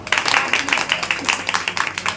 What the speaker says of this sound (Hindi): तालियां तो बजाओ